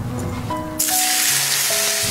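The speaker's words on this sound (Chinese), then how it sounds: "用油滋一下，香气一下子就被激发出来了" Hot oil poured over minced garlic with green and red chili peppers, a sudden loud sizzling hiss that bursts in and holds steady to the end with no talk.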